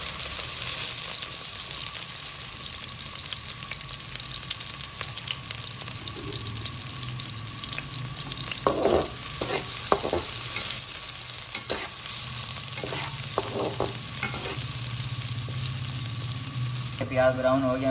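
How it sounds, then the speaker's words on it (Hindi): Onions frying in hot ghee for palak gosht, a steady sizzle running throughout with occasional stirring scrapes and clatter of a spoon in the pan, close and fairly loud. "ये देखिए घी गर्म हो गया, इसमें प्याज डाल दें।"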